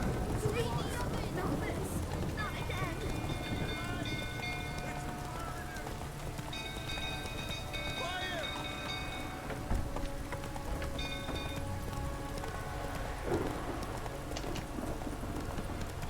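Roach, a horse in The Witcher 3, gallops steadily with rhythmic hoofbeats throughout, mixed with game music tones and background commotion, while a voice talks over it.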